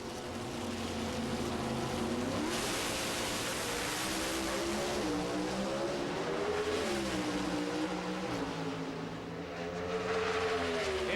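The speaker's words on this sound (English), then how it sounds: "Incredibly close side-by-side racing, but Warren Johnson pulls it out in the last" NHRA Pro Stock drag cars racing side by side in a 1995 final round: a loud, continuous roar of two engines whose pitch climbs and shifts through the gears, with no pauses.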